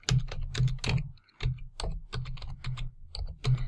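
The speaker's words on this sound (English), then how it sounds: "So I'm going to go over here and go to the top row, second column in, and type in Jackson." A word is typed on a computer keyboard: a quick run of crisp, close keystrokes in an uneven rhythm, with no voices.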